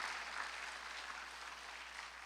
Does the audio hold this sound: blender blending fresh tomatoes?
no